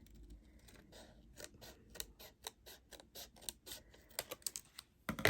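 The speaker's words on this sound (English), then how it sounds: "you'll cut off this trim here like this" Scissors snipping off a strip of paper trim on a handmade paper mini album, a quick series of crisp, close cuts in an uneven rhythm, with a louder rustle at the end and no talking.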